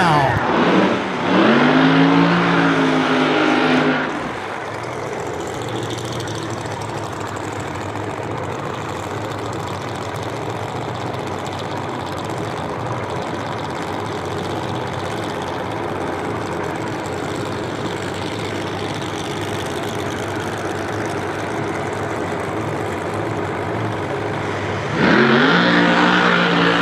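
Funny car at a drag strip (Mo-Kan Dragway) doing a burnout and run: a loud roaring engine opens the clip, a sustained lower car-noise wash follows for about twenty seconds, and another loud engine burst returns at the end.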